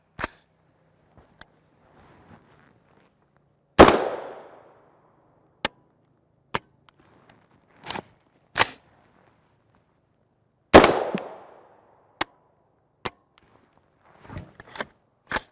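Subsonic 300 Blackout rifle shots with 208gr A-MAX ammunition crack out as sharp, separate reports at irregular intervals. A few are loud and ring briefly, while others are faint distant pops against an otherwise quiet outdoor background.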